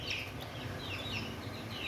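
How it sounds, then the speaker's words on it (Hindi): An Aseel hen attacks a chick: high, repeated peeping rises over low clucking, close and constant with no pause, and no one speaks. "तो मार रही है मुर्गी इसको"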